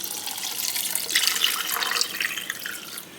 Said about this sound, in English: now I'm going to pour in 2 cups into the pot